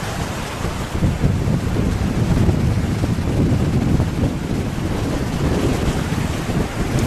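Ocean surf rolling onto a fishing beach, a steady broadband roar of breaking waves mixed with wind buffeting the microphone, with no talking.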